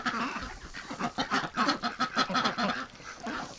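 Ducks, including Rouen ducks, honk and quack in rapid bursts at a backyard water tub, a loud close flock chattering in uneven rhythm with no talking over them.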